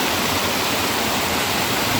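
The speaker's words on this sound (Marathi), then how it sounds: "चला धबधबा खाली जाऊन दाखवतोय" A village waterfall, the Brahman Dev falls, pours out a constant, loud hiss of rushing water heard up close, with no other sounds.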